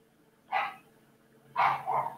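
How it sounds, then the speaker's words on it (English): A poodle barks nearby: a single bark, a second's pause, then two quick barks in succession over a faint steady hum. "We got a dog barking."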